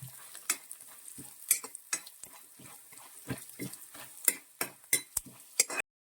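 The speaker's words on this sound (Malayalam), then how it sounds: "തേങ്ങാക്കൊത്ത് ഇനി ഒരു നല്ലൊരു ഗോൾഡൻ ബ്രൗൺ ആവുന്ന വരെ നമ്മൾ ഇങ്ങനെ നന്നായിട്ട് മൂപ്പിച്ചെടുക്കണം" Coconut pieces fry in hot oil for a Malayalam koorka mezhukkupuratti, stirred until golden brown: a steady low sizzle under repeated sharp scraping and clinking of the spoon against the pan, with no talking.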